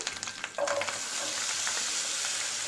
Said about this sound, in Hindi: और इन सब चीज़ों को मैं 2 से 3 मिनट अच्छे से भून लेती हूँ